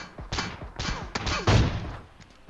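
Quick tapped shots from an M16A4 rifle in a shooting video game, several sharp reports in rapid succession, close and punchy, with no talk.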